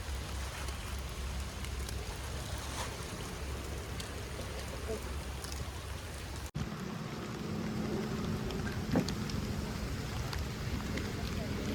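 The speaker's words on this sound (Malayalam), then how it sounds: "അപ്പത്തേനും നല്ല മഴ" Heavy rain falls outdoors at a farm beside a pond, a steady, dense hiss throughout with a brief break in the middle and a few faint drops and knocks.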